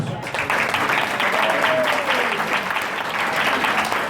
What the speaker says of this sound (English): So we deserve a round of applause for their efforts.